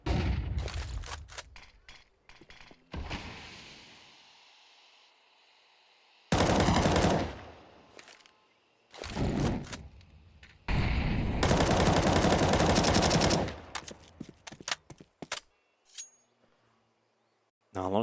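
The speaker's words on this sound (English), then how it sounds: "Hooksy from way downtown sprays down Attacker" Rapid automatic gunfire in Counter-Strike 2 during a professional esports match, loud bursts of sprayed shots alternating with short pauses and quieter stretches, with casters talking over the action.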